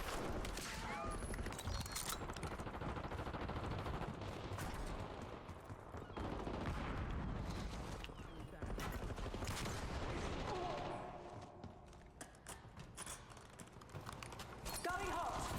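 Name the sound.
SAUG submachine gun firing in a video game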